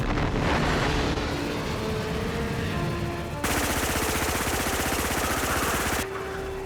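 Continuous rapid machine gun fire fills a military action film scene, a loud dense rattle with wind and engine roar behind it, growing harsher midway before easing near the end.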